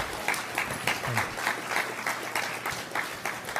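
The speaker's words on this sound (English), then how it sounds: "give one more round of applause for these guys and their effort" A senior symposium audience gives presenters a round of applause, dense steady clapping from many hands heard at moderate distance, with individual claps pulsing through and a brief low murmur underneath.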